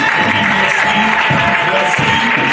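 A church congregation applauds at a Sunday thanksgiving service, a loud, steady wash of clapping that fills the whole moment.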